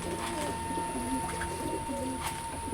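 Domestic pigeons coo softly in a few low, rounded phrases against a steady background hum, fairly quiet and close by, with no one talking.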